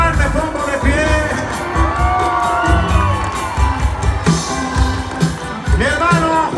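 A crowd cheers, whoops and shouts for a percussionist at a live event, loud and close, with bursts of excited voices and children shouting throughout.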